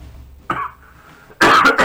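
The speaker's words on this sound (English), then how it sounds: "excuse me for coughing" One person coughs, with a short cough, a pause, then a louder, harsher burst of coughing close to the microphone.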